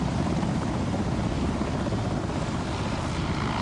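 A military helicopter hovers for a rappelling display at an independence anniversary in Kumasi, producing a dense, constant rotor and engine roar mixed with wind that stays loud and even throughout.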